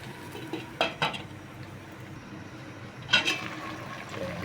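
A metal lid set onto a cooking pot of squid adobo with cabbage, two distinct clanks about two seconds apart over a steady background hiss of simmering, fairly close and moderately loud.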